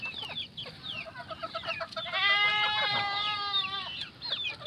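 Caged backyard chickens clucking and crowing in the early morning, with several overlapping calls close by and a steady rooster-like cry in the middle.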